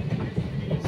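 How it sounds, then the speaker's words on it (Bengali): A passenger train runs along the tracks, a steady low rumble with faint rhythmic clatter of wheels, heard briefly from inside a carriage. "এই ট্রেন দাঁড়িয়ে যাবে।"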